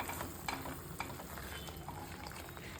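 Veg makhanwala curry with crushed kasuri methi stirred in a pan, a steady close sizzle and bubbling with light scraping clicks of the spoon scattered throughout, no voices.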